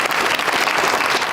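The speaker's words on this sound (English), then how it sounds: "getting applause as their time ran out" Brief burst of applause from attendees at a school board meeting about an ongoing strike, dense clapping from a crowd with no pauses.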